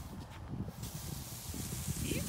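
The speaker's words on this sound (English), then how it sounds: "Spray some water to get you wet." Water sprays from a hose in a steady, hissing rush, close and continuous for the whole stretch, with no pauses or voices over it.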